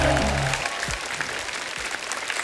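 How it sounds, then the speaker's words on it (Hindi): Studio audience applause on an Indian TV comedy talk show, greeting actors and a film director as they come on stage; a dense, loud wash of clapping at a steady level throughout, with a few low voices briefly at the start. "जोरदार तालियां हो जाए."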